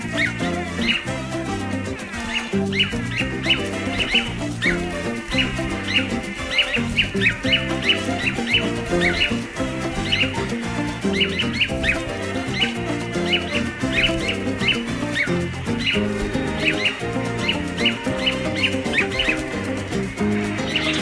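Male manakins displaying in a Brazilian forest give repeated sharp, high calls in quick bursts. The calls recur steadily over continuous music and forest ambience.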